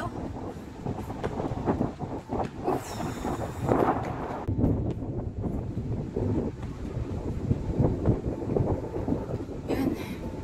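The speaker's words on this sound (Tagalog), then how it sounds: "Naririnig nyo guys yung ano, hampas ng hangin sa aking mukha." Strong cold wind on a sunny harbour front in Hong Kong's Whampoa buffets the microphone in heavy, rumbling gusts, with a few brief bursts of other noise.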